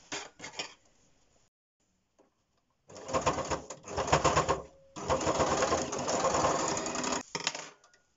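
Domestic sewing machine running bursts of back-and-forth stitching to secure elastic on a fabric face mask, a close, rapid mechanical chatter in several runs separated by short silences.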